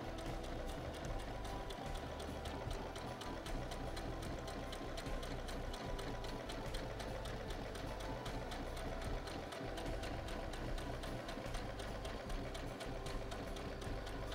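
A sewing machine stitches fabric with a steady, rapid mechanical whir that runs continuously and fairly quietly, with no talking.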